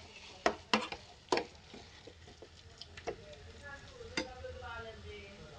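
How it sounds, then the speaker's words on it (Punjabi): Grated carrots for carrot halwa stirred in a pan, with soft sizzling and a few sharp spoon knocks against the metal early on, then quieter scraping strokes, close and faint. "ਸਾਰਾ ਅੱਛੀ ਤਰ੍ਹਾਂ ਮਿਕਸ ਕਰਾਂਗੇ, 5 to 10 ਮਿੰਟਸ ਲਏਗਾ ਮਿਕਸ ਹੋਣ 'ਚ ਅੱਛੀ ਤਰ੍ਹਾਂ"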